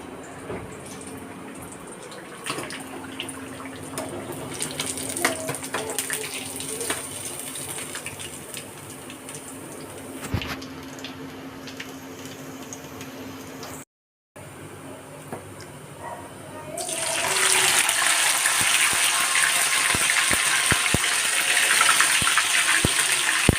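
Water gushes steadily, then swells to a loud, hissing rush for the last few seconds.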